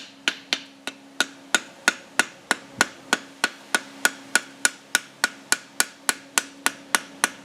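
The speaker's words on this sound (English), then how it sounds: "I was taught to rivet in 3 hammer blows, but it takes me a little bit more." A blacksmith hammers a rivet on five-eighths inch bolt jaw tongs, about twenty-two sharp ringing blows struck at an even, brisk rhythm, close and loud with nothing else around them.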